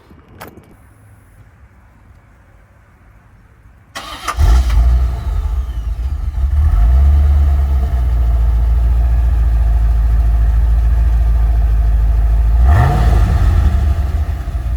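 Corvette C4 with a 5.7 V8, started outdoors: after a quiet stretch the engine cranks and catches loudly, settles into a deep steady idle, then gives a sharp rev near the end, close and loud.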